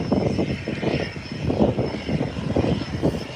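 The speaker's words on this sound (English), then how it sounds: "It's one of those short takeoff aircraft" A short takeoff aircraft's engine rumbling at a distance with a steady pulsing throb, moderately loud and continuous, no talking over it.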